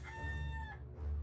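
Rooster crowing from a ScreenPlay movie card game, a single short stylized cock-a-doodle-doo with clear rising harmonics, bright and close, over a steady low hum of background game music.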